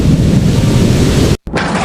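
A cartoon storm with thunder and strong wind in a village: a loud, steady roar of wind and rumble that cuts out for a split second, then resumes.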